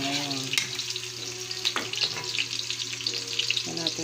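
Garlic, onion and tomato sizzling as they sauté in a pan for squid adobo, a loud, steady close frying hiss with a few clinks and stirring sounds.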